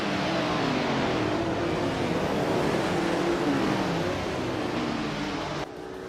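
A 1977 Porsche 936 race car engine in a racing video game, a steady loud droning roar with shifting pitch held throughout, dropping slightly near the end.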